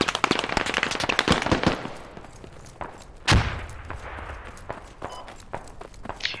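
Gunfire in the Squad shooter game, set in Fallujah with US Army forces, crackles as a flurry of sharp rapid shots. One louder burst follows, then scattered fainter pops and movement continue.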